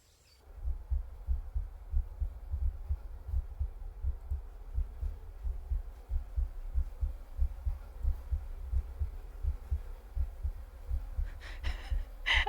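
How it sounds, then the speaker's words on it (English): Steady, muffled heartbeat thumps pulse throughout, low and close with a slow regular rhythm and a faint hum beneath, in the horror adventure game The Excavation of Hob's Barrow. "I'm hearing heartbeats."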